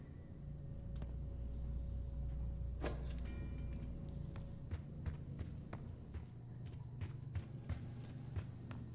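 Keys jangle as one is picked up in an interrogation room in the Call of Duty Black Ops 6 safehouse, a brief metallic rattle over quiet ambient rumble, followed by soft scattered clicks and footstep-like taps.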